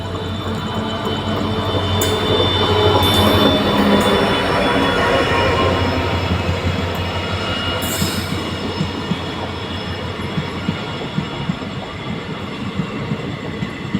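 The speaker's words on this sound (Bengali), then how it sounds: "ফাইনালি ট্রেন কিন্তু আসছে" A Siliguri to Bamanhat passenger train arriving at night, loud and close, with a steady rumble of rolling wheels, metallic squeals, a couple of sharp hiss bursts and rhythmic clicks of the rail joints.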